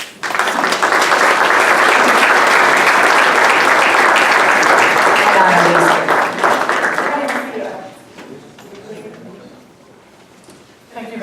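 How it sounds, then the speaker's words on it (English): A school board meeting audience applauds the Newburgh Chamber Music, with loud, dense clapping that holds steady for several seconds before thinning out and fading near the end. "Please join me in thanking the Newburgh Chamber Music by a round of applause"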